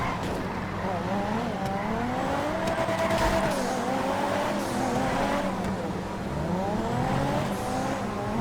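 Yuga Turbo car in the GTA FiveM video game, a continuous engine drone that rises and falls as it revs and shifts through gears, with tire noise in the background.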